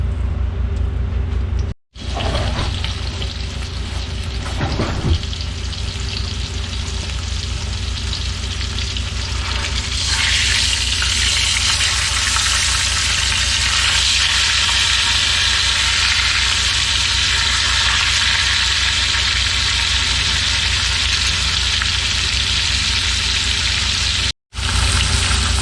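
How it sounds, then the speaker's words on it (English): Loud, continuous sizzling and crackling of tri-tip beef searing in a hot pan, with a brief break early on and spitting intensifying midway. "let it sizzle and sear"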